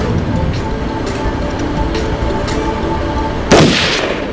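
A single sharp gunshot fired at a target cracks out loud near the end, following a steady rumbling background.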